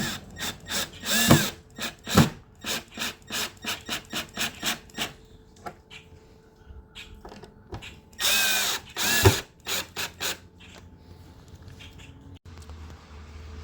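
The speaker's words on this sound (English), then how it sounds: "screwing the speakers back in place using the original screws that came out of the fender of the old speakers" Screws being driven to fix speakers into a Fender Bassman 2x12 speaker cabinet, with a rapid series of rasping, rhythmic turns, close up, then a pause and another short burst, no talking.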